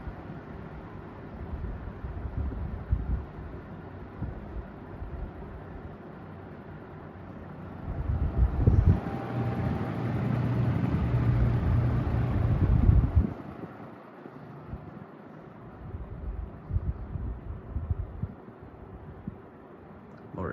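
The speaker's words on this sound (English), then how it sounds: "This fan sounds really good on low." A vintage 1971 Lakewood S-23 electric fan running on its low setting, a steady low whir and airy rush that swells louder in the middle stretch before easing back, with a slightly dry-sounding motor.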